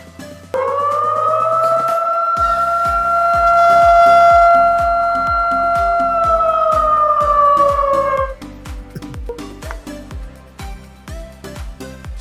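A loud, steady electronic emergency siren tone sounds from an amplifier-based automatic school bell system, holding a rising-and-falling wail for several seconds over a rhythmic pulsing backing before cutting off.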